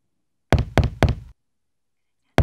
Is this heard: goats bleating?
no